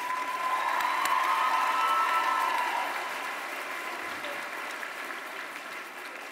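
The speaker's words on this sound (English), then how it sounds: "Let's give a big round of applause to our two student speakers" A large crowd at a School of Education commencement ceremony applauds two student speakers, a broad wash of clapping with a few cheers that stays loud, then gradually softens.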